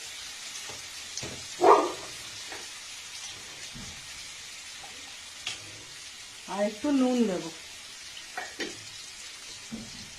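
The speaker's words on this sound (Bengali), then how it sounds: "এবার এটা আমি ভাজা ভাজা করে নেব, তারপর আসছি।" Potatoes with turmeric frying in a pan give off a steady, soft hissing sizzle with occasional stirring clinks, while someone speaks briefly over it.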